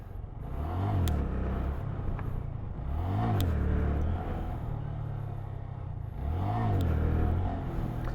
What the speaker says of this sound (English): I'm trying to wheelie at too high of a speed, so it's not giving me enough each time I rev